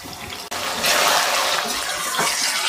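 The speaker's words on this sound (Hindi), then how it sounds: "आप देखें इसकी आवाज़ से आपको लग रहा होगा कि कितने अच्छे से भून चुका है।" Minced mutton keema frying over a high flame gives a steady, bright hiss of sizzling throughout, loud and close, with no one speaking.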